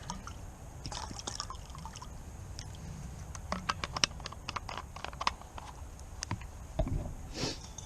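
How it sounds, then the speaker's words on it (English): Frozen water with big ice chunks sloshes and clinks inside a bottle outdoors by a campfire, making irregular gurgles and sharp knocks at close range. "My water is frozen. I have big chunks of ice in it."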